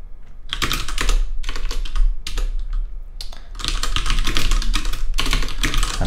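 Code being typed on a computer keyboard in rapid bursts of close, crisp key clicks, with short pauses between runs and no talking.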